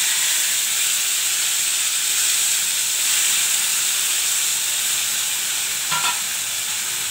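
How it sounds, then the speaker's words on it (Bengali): Mustard seeds spluttering in hot oil as a tempering, a loud steady hissing sizzle that holds evenly throughout, with a brief faint tone near the end. "এতে সর্ষে ফোড়ন দেয়, সর্ষেটা ফোড়ন দিলাম"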